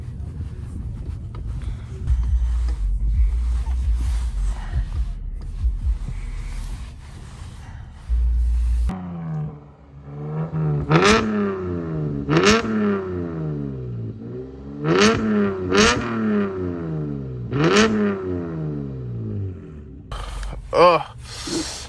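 Car engine with muffler and resonator delete, idling roughly before a series of sharp, loud revs that rise and fall about every two to three seconds, ending with a few crackles.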